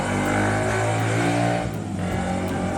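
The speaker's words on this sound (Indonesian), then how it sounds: "Emang knalpot kenceng itu begitu ya, seru buat yang bawa" A loud vehicle with a loud aftermarket exhaust roars steadily with a deep, rumbling note, holding strong throughout with a slight dip before building again.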